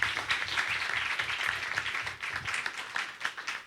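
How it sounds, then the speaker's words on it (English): An audience claps in continuous applause at a live-streamed competition event, dense and fairly loud throughout. "Please, a round of applause for Ryan here."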